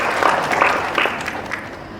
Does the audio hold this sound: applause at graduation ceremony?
yes